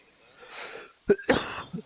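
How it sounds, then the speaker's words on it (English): A faint breathy sound, then two sharp coughs close by, followed by a short throaty cough. "Coughing."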